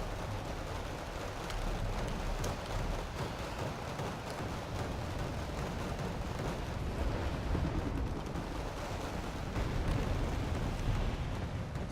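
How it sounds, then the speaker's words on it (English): Flamethrower fire from KM132 flamethrower M113 vehicles in Wargame Red Dragon, a steady roaring, crackling wash of flames and distant blasts that fills the whole stretch without a break. "Got some flames being dropped down here. He's got those KM132s, which is the flamethrower M113."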